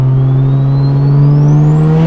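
Big-turbo bridgeport 13B rotary engine in a Mazda RX-7 pulling hard under acceleration, a loud steady drone climbing slowly in pitch with a thin whine rising above it, continuous and close throughout.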